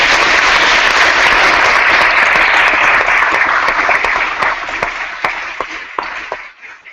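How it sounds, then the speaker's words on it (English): A crowd applauds loudly and steadily, the clapping thinning out and fading to a few scattered claps at the end. "Give us your applause."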